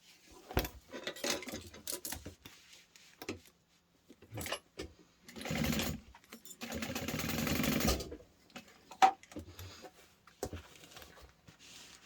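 A sewing machine bastes fabric pieces for an anti-theft backpack, running in a few separate bursts, the longest a steady whir of about two seconds, with handling clatter and quiet gaps between runs.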